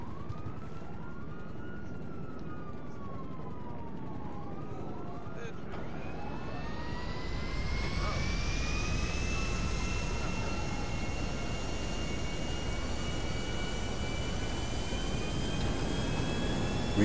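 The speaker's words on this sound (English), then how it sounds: "We have takeoff." A jet airplane taking off roars continuously, its engine noise building and holding loud over a sustained rising whine, with a siren-like tone sweeping through the first few seconds.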